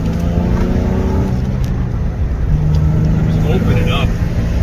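A Honda CR500R supermoto motorcycle engine roars loud and close at high speed, a sustained, dense drone with shifting pitch and wind noise throughout, and a voice can be heard under it.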